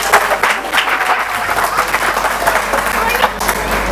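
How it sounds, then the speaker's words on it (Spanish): Audience applause in a lecture setting on juvenile criminal law, a steady wash of clapping that holds at an even level for the whole stretch, with some speech mixed in under it. "sí, un aplauso."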